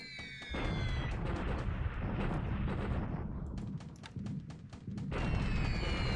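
A bombing air raid in the War in the Pacific video game plays out as a dense, continuous roll of explosions and gunfire, with sharp bursts cutting through and a high whine at the start and end.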